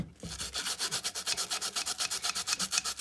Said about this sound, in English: I'm just trying to help get some of this dirt and stuff off